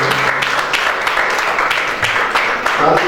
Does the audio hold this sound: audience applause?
yes